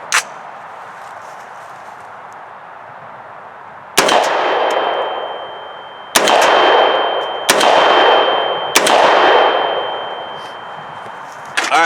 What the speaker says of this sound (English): So let's put some rounds through it first, unsuppressed, so you can kind of hear what that sounds like